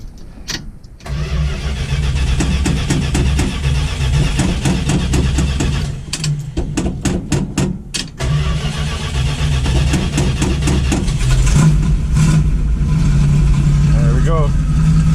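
A 1972 Dodge Demon Mopar muscle car that has not run in a while cranks over with the starter, catches, then settles into a loud, rough idle with blips of revving close by as people talk.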